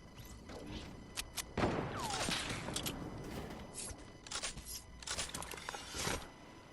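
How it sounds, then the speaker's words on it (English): Gunfire erupts in a battle royale video game arena match, with scattered sharp shots and a burst of rapid cracks from nearby, mixed with game effects and a sweeping whoosh, moderately loud throughout. "I start getting shot at"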